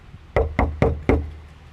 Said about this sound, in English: maybe knock